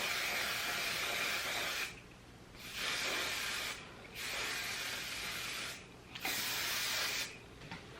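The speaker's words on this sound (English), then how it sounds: "I'm going to spray some hairspray onto my hair." Hairspray hisses onto hair in four separate bursts of several seconds each, with short quiet gaps between them, fairly soft and close.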